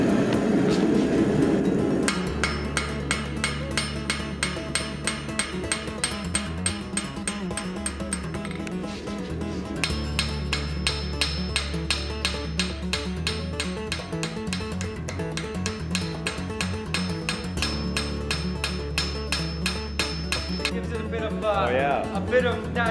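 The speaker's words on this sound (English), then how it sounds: "putting in sort of like a little vein texture, just with like a sharp hammer peen here" A sharp peen hammer taps rapidly and steadily on hot metal as a blacksmith hand-textures leaf veins, a dense metallic ringing rhythm that pauses briefly and resumes, with a voice talking over it.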